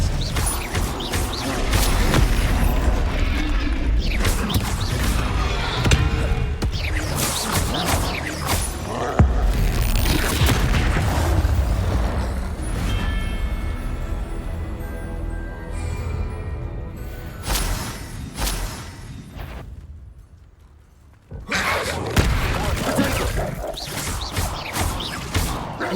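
Confringo and Incendio spell explosions in Hogwarts Legacy, a dense run of loud booms, whooshes and crashing blasts over a constant roar of game sound, with a brief lull before the blasts resume.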